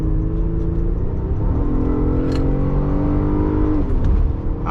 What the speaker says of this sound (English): I don't know why this car sounds supercharged a little bit.